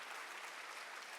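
A dense, steady wash of audience applause fills a hall at a Christian youth talk concert. Many hands clap evenly and loudly throughout the short burst, with no speech.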